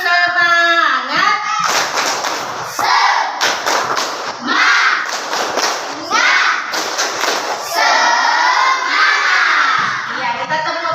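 Schoolchildren chant loudly in unison while doing the tepuk semangat clapping routine, their shouted syllables broken by bursts of rhythmic claps and thumps, close and energetic.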